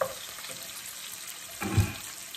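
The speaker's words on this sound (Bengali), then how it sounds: "একটু জিরা ফোড়নে দিয়ে দিলাম" Cumin seeds crackle and sizzle in hot oil, a steady frying hiss at moderate level with a brief louder burst of spattering near the end, no talking.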